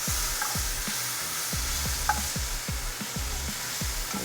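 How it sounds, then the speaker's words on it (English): Onions and peppers sautéing in a pan, a steady sizzle under repeated scraping strokes of a spoon stirring at a regular rhythm, close and fairly loud with no talking. "sauteing the onions with the peppers"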